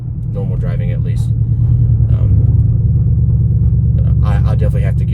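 A Chevrolet LTZ's loud exhaust gives a heavy, deep rumble that builds and holds strongly over about five seconds, with a voice talking over it now and then.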